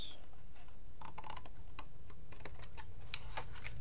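A utility knife cuts through a cardboard box, a quiet run of small scratchy clicks and ticks as the blade works along the edge, faint and close with no talking.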